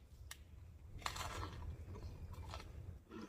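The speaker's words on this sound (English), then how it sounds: "I want you to hear the crunch" Close, crisp crunching as a battered fried cod fish taco is bitten into, followed by a few quieter chewing crunches, with no talking.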